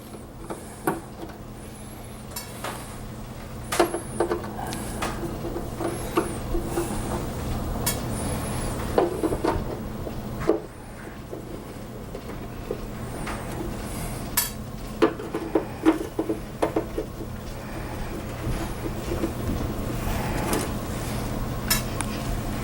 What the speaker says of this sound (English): Now we'll remove all the screws